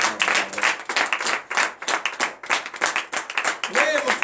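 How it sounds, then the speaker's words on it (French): A church congregation at a morning prayer service claps and cheers in acclamation, loud, dense and rhythmic pulses of clapping with voices calling out over them, continuing steadily throughout. "Veuillez vous lever et donner une vive acclamation à l'Éternel."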